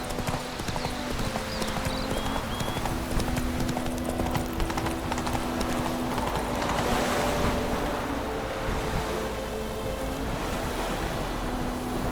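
Roach, Geralt's horse in The Witcher 3, gallops with a steady, rhythmic clip-clop of hooves, close and continuous over a wash of wind and surf-like ambience.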